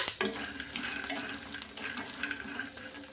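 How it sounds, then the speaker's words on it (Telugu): Peanuts fry and get stirred in a pan, a steady soft sizzle with scraping stirs and light clinks of the pan, fairly quiet and with no talking. "ఇంకా చూడండి పల్లీలు అయితే ఫ్రై చేసుకుంటున్నా"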